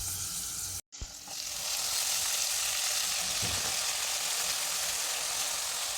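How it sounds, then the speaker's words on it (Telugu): Chopped, washed radish leaves drop into a hot tempering: a brief pause and a thump, then the frying swells into a loud, steady, close sizzle that holds to the end. "వాష్ చేసుకొని మనం పోపు పెట్టుకున్న దానిలోకి వేసుకోవడమే."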